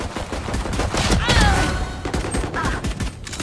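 Rapid gunfire bursts from a tactical shooter video game, dense and loud, with crackling volleys running throughout and a few higher tonal effects layered in.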